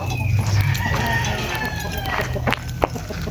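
Gamefowl roosters and chickens on a game farm cluck and call nearby, with a short crow-like cry and some sharp knocks toward the end, and a person talking faintly in the background.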